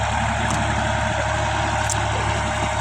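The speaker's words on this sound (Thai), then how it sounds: "อันนี้ไม่ได้แบกแล้วครับใช้รถไถยกครับ" A farm tractor lifts a load of freshly dug cassava roots during the harvest season in Chiang Rai, its steady engine drone running loud and continuous with a low rumble throughout.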